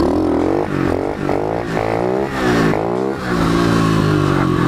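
A pit bike engine revs hard in first gear for a wheelie, a loud, close buzzing drone that surges and dips in rapid pitch sweeps with the throttle and clutch.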